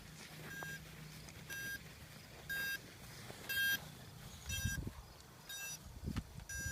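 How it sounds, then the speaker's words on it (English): Short electronic beeps from a Blade 350 QX quadcopter drone after a crash repeat at a steady pace, high and thin, each a brief tone, with low rumbling and handling noise underneath. "It's beeping."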